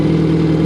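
A 2022 Suzuki Hayabusa motorcycle engine, fitted with a block-off restrictor plug, fires up and settles into a loud, steady low rumble heard close by with no talking.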